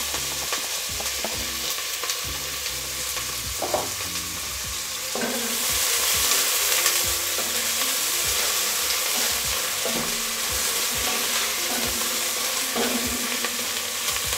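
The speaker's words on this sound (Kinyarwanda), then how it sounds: "Ibitunguru tugiye kubiteka iminota 2, mpite nshiramo inyama." White onions frying in a pot for beef pilau, a loud continuous sizzle with repeated scraping stir strokes that grow busier and louder partway through.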